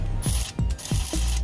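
A ratchet tightens clamps on a Ford F550 truck, giving three or four quick, sharp clicking strokes close by, each a short metallic ratcheting burst with brief pauses between.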